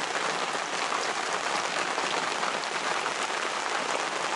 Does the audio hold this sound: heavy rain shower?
yes